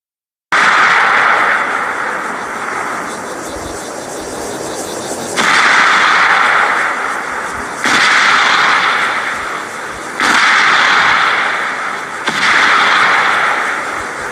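Missile blasts destroying a building boom one after another, five heavy explosions at roughly two-second intervals, each a loud broad roar that rumbles and fades before the next.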